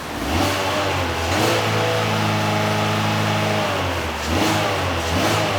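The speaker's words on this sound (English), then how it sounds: "let me rev it up again" A car engine revved repeatedly during a cam phaser test on a vehicle with a P0011 fault, loud close revs that climb, hold and drop back before rising again.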